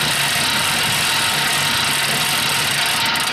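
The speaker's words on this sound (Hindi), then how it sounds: "ये साइकिल बहुत शोर कर।" An old exercise bike in a Peppa Pig cartoon makes a loud, continuous mechanical whirring drone, like a rough idling motor, holding steady throughout with no voices.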